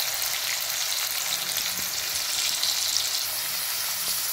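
Chopped onion sizzles steadily in hot oil for a tempering for besan pitla, a constant close hiss with faint stirring and no talk.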